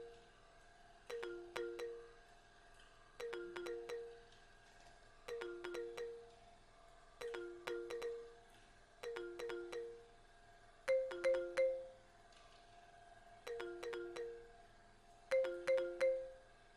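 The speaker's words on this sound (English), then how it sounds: "So the next thing we're going to add, it's marimba." A synthesized marimba plays a repeating melodic pattern in short phrases for an African praise beat, built in FL Studio, with clear mallet-like notes and steady rhythm throughout.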